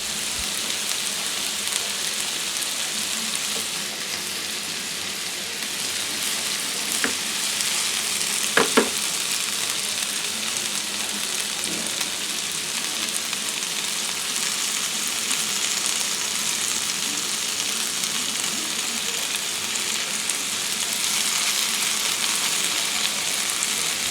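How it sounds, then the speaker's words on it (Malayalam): Marinated squid frying in a pan over high flame, a loud continuous close sizzle like heavy rain that holds steady throughout, with a couple of brief sharp pops or clicks partway through. "ഇപ്പോൾ നമ്മൾ മാരിനേറ്റ് ചെയ്ത് വെച്ചിട്ടുള്ള മൊത്തം കൂന്തലും ഞാൻ ഈ ഫ്രൈ പാനിലോട്ട് ഇട്ട് കൊടുത്തിട്ടുണ്ട് ഇനി നമുക്കിത് ഹൈ ഫ്ലെയിമിൽ വെച്ചിട്ട് ഒരു മിനിറ്റ് കുക്ക് ചെയ്യാം ഫ്രൈ ചെയ്യാം"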